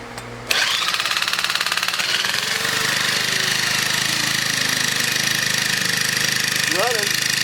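A scrapped Craftsman 4-stroke weed eater engine catches and starts, then runs at a steady, loud, buzzing idle close by, with a voice speaking briefly over it.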